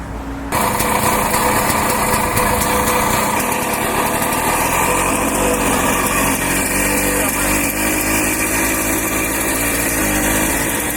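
A 50-year-old motorcycle engine starts up abruptly and runs loud and close, a steady rapid buzzing idle with a rough, slightly uneven pulse that continues to the end without talk.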